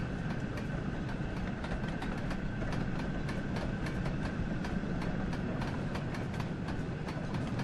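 Steam locomotive running in Train Sim World, a steady heavy rumble of wheels and engine with rapid regular clicks from the track, loud and continuous throughout.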